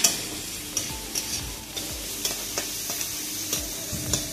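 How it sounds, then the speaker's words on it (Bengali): Onion and potato frying in a pan, a steady close sizzle with repeated sharp scrapes and clacks of a utensil stirring, no voices. "পেঁয়াজ এবং আলু ভালোভাবে ভাজা হয়ে গেছে।"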